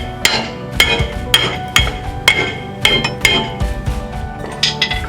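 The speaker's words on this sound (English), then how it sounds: "We're gonna have to tap it with a hammer a little bit because it's got to get past the" Several sharp metallic hammer taps on a truck's brake part being worked past the emergency brake, struck in irregular bursts of one or two blows with clanking ringing between, close and fairly loud.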